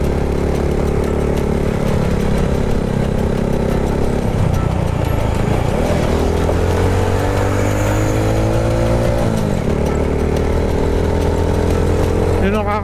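On a road, a truck's engine drones steadily, a loud, continuous low rumble that rises and dips in pitch as it works, heard from nearby inside a moving vehicle, with people talking over it.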